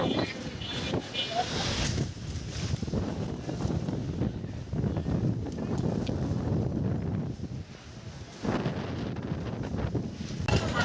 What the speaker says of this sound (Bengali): বাইরে প্রচুর পরিমাণের বাতাস, কি পরিমাণের বাতাস বাইরে।